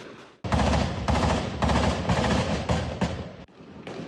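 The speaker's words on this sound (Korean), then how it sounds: "전쟁터를 방불케 하는 총격 소리가 울려 퍼집니다." Gunmen fire in a daytime armed attack on a Lamborghini SUV in Zapopan, Mexico. Loud, close bursts of rapid automatic gunfire crackle in quick volleys, broken by brief pauses.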